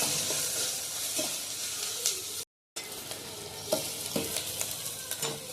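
Onions frying in a pan sizzle and hiss steadily up close, with scattered crackles and stirring scrapes; a short dropout of silence breaks the sound midway.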